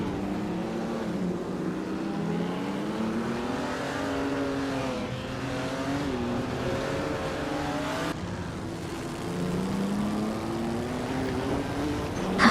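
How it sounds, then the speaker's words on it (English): AI-driven race cars in a racing video game whine past in a continuous engine drone, with pitch rising and falling through gear changes as several cars compete, loud and steady with no talk. "I'm just here watching these AI cars duke it out"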